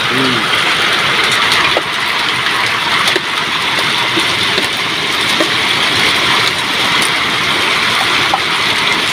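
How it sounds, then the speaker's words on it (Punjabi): Rain and hail fall on crops in a Punjab field, a loud, dense, steady wash of pattering with occasional sharper hits throughout. "ਮੀਂਹ ਵੀ ਲੱਗਦਾ ਤੇ ਗੜੇ ਵੀ ਲੱਗਦੇ ਨੇ"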